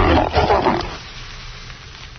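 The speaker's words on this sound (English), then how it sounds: "That was a lioness mating call." A lioness gives a loud, rough mating call, most of it a strong roar in the first second, then fading into a quieter tail with no talking over it.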